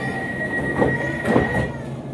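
Steady rumble of a London Overground train rolling along the rails as it departs Liverpool Street station, with a faint high whine and soft rhythmic wheel noise as it moves off.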